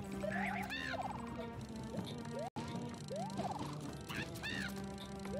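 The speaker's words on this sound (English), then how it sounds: "that is not duck, that is not duck" A cartoonish goose honks repeatedly in the New Super Mario Bros. U Deluxe video game. The sharp, nasal calls come in two clusters over steady background game music, with a brief gap in the middle.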